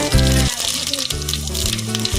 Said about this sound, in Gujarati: હવે તો રાઈ ફાટી ગઈ તો નાખી દઈએ હવે જીરું.